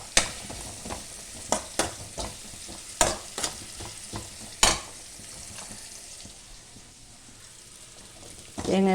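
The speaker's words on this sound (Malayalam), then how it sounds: "കരിയാതെ നന്നായി വറുക്കുക." Freshly grated coconut roasting in a pan and stirred steadily, sharp scraping spoon strokes repeating over a continuous dry sizzle, close and clear, fading to quieter frying toward the end.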